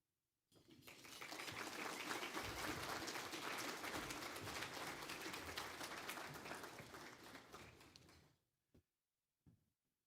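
An audience at a charity breakfast for justice gives the board president a loud, sustained round of applause, dense clapping that fades out after about eight seconds, followed by a couple of faint thuds.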